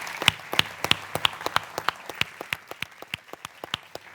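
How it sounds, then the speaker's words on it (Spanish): Scattered applause from an audience at a Spanish awards ceremony, with separate claps landing sparsely and fairly close in an uneven, thinning rhythm and no voices over them. "Un aplauso para ella."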